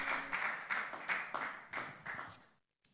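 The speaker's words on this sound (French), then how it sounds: "célébrons Jésus avec une acclamation" Church congregation clapping in acclamation during a Sunday service, several bursts of applause over a couple of seconds, fairly faint and distant, fading to silence at the end.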